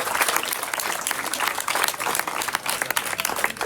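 A crowd at a classroom handover ceremony at a school in Senegal applauds the site foreman. Brisk, dense clapping runs steadily from start to finish, fairly close and loud.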